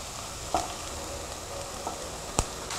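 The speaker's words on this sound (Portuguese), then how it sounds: "E vamos refogar o bacalhau até ele ficar bem sequinho." Salt cod sautéing with garlic in a pan, a steady soft sizzle with a few sharp utensil taps and scrapes against the pan, close and without talk.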